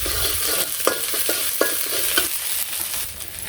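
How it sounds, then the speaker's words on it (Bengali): Chopped onion and ginger fry in hot oil in a pan, giving a continuous bright sizzle broken by short scraping stirs of a spatula, close and loud with no talk. "তেলের মধ্যে পেঁয়াজ কুচি দিয়ে দিলাম"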